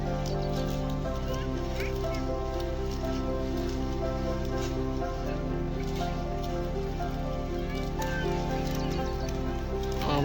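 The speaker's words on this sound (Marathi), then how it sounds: "पाऊस यायला लागला" Rain falling steadily over a field during a soybean harvest, a continuous dense hiss of drops under a low droning hum, with no clear voices.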